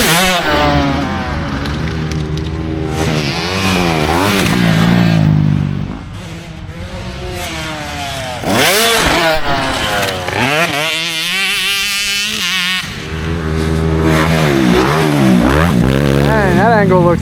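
A KTM 150SX two-stroke motocross bike on a practice track, its engine loud and close, revving hard and swinging up and down in pitch as it accelerates, lets off for jumps and corners, then opens up again.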